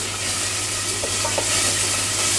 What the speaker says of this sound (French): il faut aller très très vite aussi pour la cuisson de l'oignon